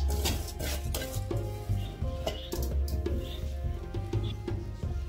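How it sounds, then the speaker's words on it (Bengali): Washed rice goes into a cooking pot for vegetable khichuri with a busy run of clinks, scrapes and stirring clatter over a low rumble, close and fairly loud throughout. "তো এখানে চালগুলো ভালো করে ধুয়ে নিয়ে এই যে দিয়ে দিলাম"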